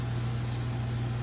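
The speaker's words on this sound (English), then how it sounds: "So we're gonna spray it" A short, steady hiss of spray over cinnamon roll dough in a home kitchen, close and continuous, with a low hum underneath and no talking.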